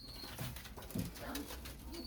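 A domestic pigeon gives a few faint, short low coos spaced through the moment, quiet against a soft background hiss with no clear talking.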